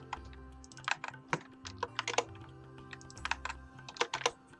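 Quick, irregular typing on a computer keyboard, close and crisp key clicks in bursts over a soft background of low tones.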